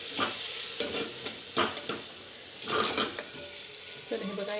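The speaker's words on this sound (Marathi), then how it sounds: "हा काळा मसाला बनवून घेतला मी तर मी याच्यामध्ये तो ॲड करते तो पण मी व्यवस्थित तेलामध्ये परतून घेते" Black masala sautéed in oil inside a clay pot, with repeated scraping stirs of a spoon over a bright sizzling hiss in uneven bursts, close up and without voices.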